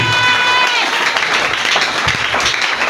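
A church congregation at a worship and praise service applauding and cheering loudly, a dense continuous wash of clapping and voices filling the room for a few seconds.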